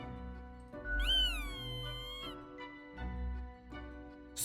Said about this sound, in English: Appease the boss's cat with a gift.